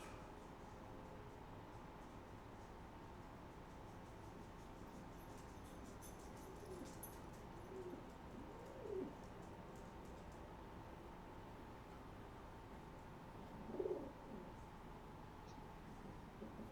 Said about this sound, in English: Do you hear the pigeons? Yeah, I do actually. She's cooing. That pigeon noise.